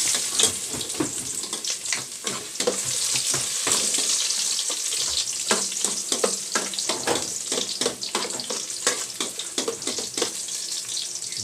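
Ginger frying in a pan: a dense, steady sizzle with crackling pops and scraping stir strokes throughout, close and loud.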